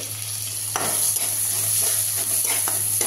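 Onion and green chili frying over a high gas flame in a pan for veg hakka noodles, a steady close sizzle with a few scraping stirs, no voices.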